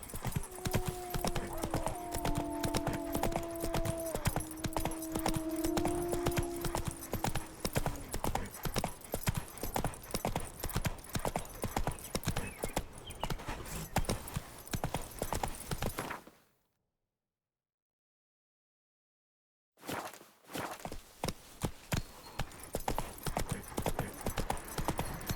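A horse's hooves clip-clop in a steady trot through the video game The Witcher III, with an occasional whinny. The hoofbeats continue for a long stretch, drop out for a few seconds, then resume.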